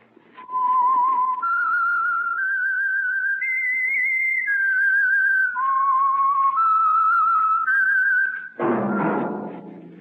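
A clear whistled melody rises and falls in sustained, tuneful phrases as the theme signalling The Whistler radio program for Signal Oil, ending with a brief thump of other sound.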